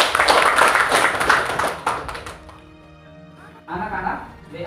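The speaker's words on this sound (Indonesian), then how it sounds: "tepuk tangan untuk Gut" A classroom of students claps after a classmate's presentation, a busy burst of overlapping hand claps lasting about two seconds before it thins out, followed by a short quiet and then a voice speaking.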